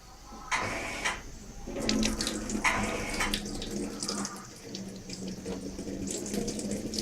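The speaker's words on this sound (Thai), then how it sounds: "เปิดน้ำใส่ครับ" Tap water runs steadily into a bowl of rice for washing, a continuous close splashing and gurgling with shifting flow and no voices over it.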